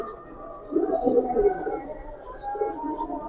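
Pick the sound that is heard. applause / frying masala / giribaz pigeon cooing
giribaz pigeon cooing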